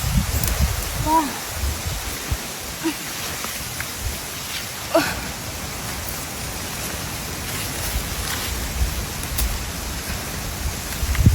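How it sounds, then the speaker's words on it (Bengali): Cool wind blows across an outdoor hillside jhum field where cucumbers grow, a steady rushing noise with leafy rustling and a few soft knocks and bumps. "আর চারদিকে প্রচুর বাতাস হচ্ছে, একদম ঠান্ডা ঠান্ডা পরিবেশ, ঠান্ডা ঠান্ডা হাওয়া"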